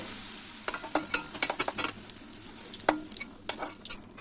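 Chunks of taro fry in oil over a low gas flame, a soft continuous sizzle broken by frequent sharp clinks and scrapes of a utensil against the pan.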